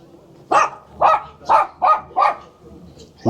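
Dogs bark in the Philippines, with five sharp, evenly spaced barks at close range and another starting at the end, over a low background murmur.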